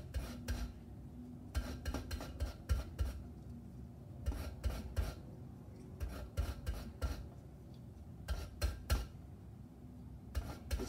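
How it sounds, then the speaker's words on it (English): Lemon zest is grated on a microplane for raw beetroot hummus, giving close repeated rasping strokes in quick bursts with short pauses between them. "Just trying to make sure that I get every bit of the skin in the lemon zest."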